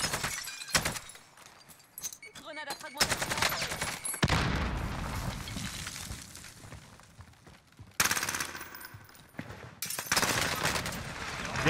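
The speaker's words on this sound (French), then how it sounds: "Ouais, il me tire dessus." Gunfire and explosive bursts in the battle royale game Warzone, with loud broadband volleys and crackling impacts coming in clusters through the clip, including a sharp blast near the middle.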